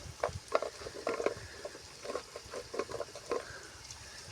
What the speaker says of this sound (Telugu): ఇప్పుడు నేను ములక్కాయ ముక్కలు వేయబోతున్నాను.